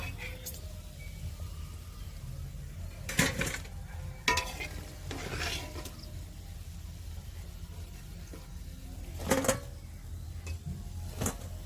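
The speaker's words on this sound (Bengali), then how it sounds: "এই গজাগুলো ভাজা হয়ে গেছে, তুলে নেব।" Khasta gaja sweets fry in oil, giving a soft, continuous sizzle, broken by several sharp clatters and scrapes of a utensil against the pan as the pieces are lifted out.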